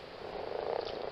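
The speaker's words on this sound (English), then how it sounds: "That's the frogs." Frogs croak in the Tamar Valley, a dense, continuous chorus of rapid rattling calls, fairly faint and with no one talking.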